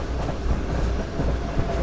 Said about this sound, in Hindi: काफ़ी आराम से ट्रेन हमारी आगे बढ़ रही है मियाँ चुन्नू रेलवे स्टेशन की तरफ